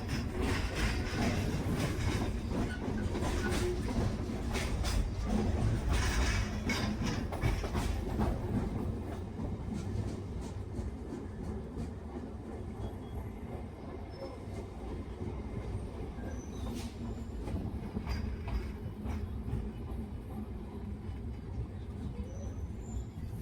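A train on Kolkata's Circular Railway near Khidirpur station rumbles steadily, louder at first then easing slightly, with wheel clatter and faint squeals mixed in.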